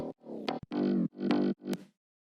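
Fat synth bass layer thickened with the RBass plugin in FL Studio, heard as a few short, buzzy sustained notes and stabs in a quick rhythm, alone and fairly loud, stopping cleanly after about two seconds.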